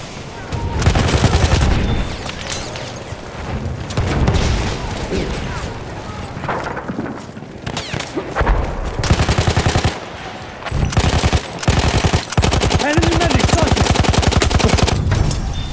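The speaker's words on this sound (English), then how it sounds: "Machine gun over there!" Loud, sustained machine gun fire in the video game Battlefield 1, with dense rapid bursts, scattered gunshots and booms across a chaotic battle, pausing briefly before resuming at full intensity.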